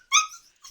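A puppy gives a short growling yelp, then a fainter brief whimper, close by and alone, against silence.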